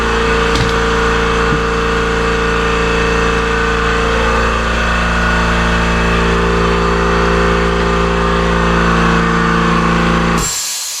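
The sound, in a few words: Kobalt Quiet Tech 29 gallon air compressor running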